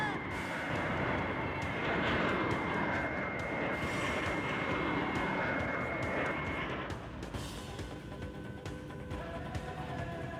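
A cartoon scramjet aircraft engine roars continuously in flight, a loud, dense, steady rushing drone that eases slightly in tone toward the end.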